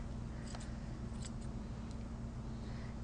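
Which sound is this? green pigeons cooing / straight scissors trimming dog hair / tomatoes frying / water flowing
straight scissors trimming dog hair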